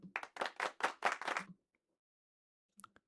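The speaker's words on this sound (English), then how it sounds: "Maybe I should stop clapping" One person claps hands in a quick run of loud, close claps for about a second and a half, then falls silent, followed by a couple of brief faint taps near the end.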